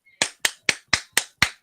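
Seven sharp, evenly spaced hand claps land about a quarter second apart, loud, close and crisp, with nothing else underneath.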